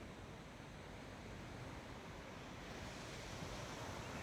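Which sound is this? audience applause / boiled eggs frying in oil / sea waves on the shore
sea waves on the shore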